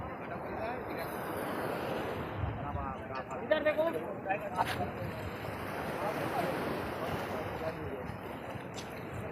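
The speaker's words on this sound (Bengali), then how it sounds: "সমুদ্রের ঢেউটা খালি দেখে নাও আরব সাগরের ঢেউ" Arabian Sea waves washing onto the shore at Mumbai, a steady broad roar with wind buffeting the microphone, and a brief louder surge midway.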